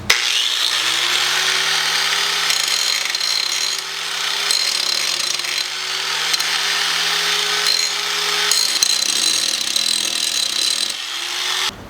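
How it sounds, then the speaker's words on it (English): A power tool grinds down a shock part for a Harley M8 Softail, a loud, harsh, continuous abrasive roar with a steady droning tone that shifts pitch slightly as pressure changes, close up and alone. "So we're just gonna continue and grind that down."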